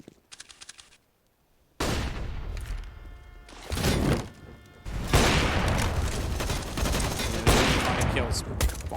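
Sustained gunfire during a Counter-Strike match on the Train map, with bursts of shots building into a dense, loud barrage after a brief quiet gap, and a caster's voice talking over it.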